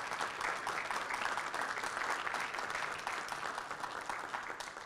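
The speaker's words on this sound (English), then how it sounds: "Big round of applause," Town hall audience clapping for veterans at the Jefferson Davis Memorial, a dense, sustained round of applause from many hands at moderate distance, fading slightly toward the end.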